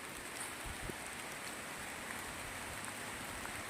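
Steady rain falls outdoors during a rock and gem hunting trip, a continuous, even hiss of drops with no voices.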